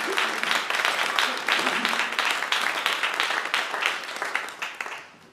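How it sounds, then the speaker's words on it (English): Sustained applause from an audience at an interfaith gratitude service fills the hall, dense clapping holding steady for several seconds before tapering off toward the end. "Are we not applauding?"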